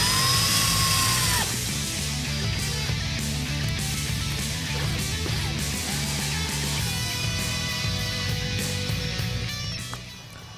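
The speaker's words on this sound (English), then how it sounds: "Reinstall the screws, but do not over tighten as you can crack the housing." A cordless drill or driver spins screws into a Jeep Wrangler JK LED taillight housing, a near, fairly loud mechanical whir with shifting motor tones and small ratcheting clicks, fading at the end.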